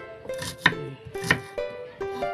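A knife chops onions on a board while cooking labong, Ilonggo-style bamboo shoot dish: a few sharp, separate cuts spaced irregularly, close and fairly quiet.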